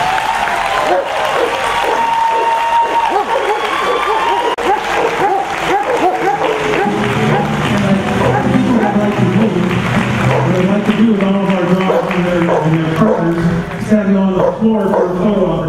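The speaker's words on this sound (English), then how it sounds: "So how about a final round of applause for everybody?" A crowd at an honor ceremony applauds steadily and loudly throughout, with dogs barking and yipping in the mix and some voices beneath the clapping.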